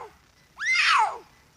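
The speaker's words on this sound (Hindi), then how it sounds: "इसके बाद है माउंटेन लायन, जिन्हें प्यूमा भी कहा जाता है और इनकी आवाज कुछ ऐसी होती है" A mountain lion, or puma, gives a single rising then falling screech lasting about half a second, loud and close, standing alone against near silence.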